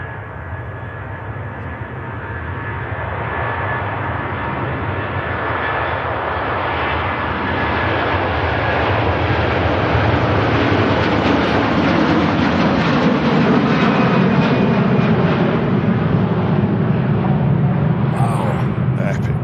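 An Airbus A330 airliner departs Manchester Airport bound for Beijing, its jet engines a loud, steady roar that builds and holds for the whole stretch.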